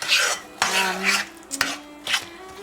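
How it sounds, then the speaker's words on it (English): Cookie dough for chocolate oatmeal zucchini cookies stirred by hand in a bowl, a spoon scraping and knocking against the sides in a few uneven strokes, close up and alone. "what I'm doing is just stirring it by hand"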